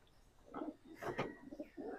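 Soft, repeated cooing of a racing pigeon, a few low throaty calls close by in a quiet setting.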